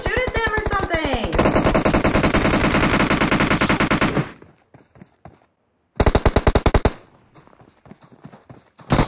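Bursts of rapid automatic gunfire in a video game, a long sustained stream followed by a short pause and a second loud burst, close and dense.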